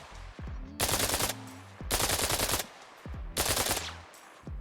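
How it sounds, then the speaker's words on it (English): KAC KS1 rifle fired full auto in the game Arma Reforger, three loud sustained bursts of rapid gunfire separated by brief pauses, each followed by echoing tails, with no talking. "The first gun we're going to talk about is the KAC KS1. Even in full auto, this gun is controllable."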